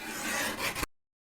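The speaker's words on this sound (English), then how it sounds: "And then I'm going to trim the other side and bring it to 7 inches." A paper trimmer slices through a vellum card in one continuous close scraping rasp lasting under a second, ending with a small snap and then silence.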